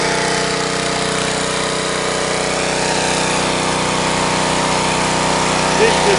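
An old Otto Kynast Aero-Star BV48Z department-store lawnmower, revived after long disuse, runs with a steady loud engine drone and buzzing harmonics held for the full stretch, close by, with no pause.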